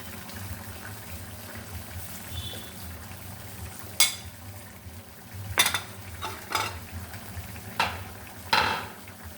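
Gourd cooking in a pot on a home stove, a low steady simmer under scattered metallic knocks and clanks as a lid is handled and set over the pot, close and moderately quiet.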